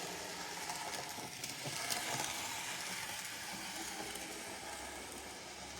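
A Graham Farish model train locomotive runs steadily, a continuous whirring rumble with a hissy edge that holds at an even level throughout, with no talking.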